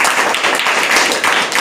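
Loud, steady clapping from a church congregation during a Telugu Sunday sermon, dense and continuous for under two seconds with no voice over it.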